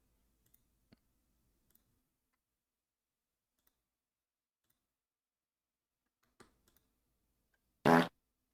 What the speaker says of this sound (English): Mega fart.